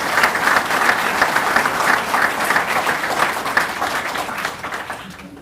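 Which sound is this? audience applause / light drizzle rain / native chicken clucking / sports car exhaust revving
audience applause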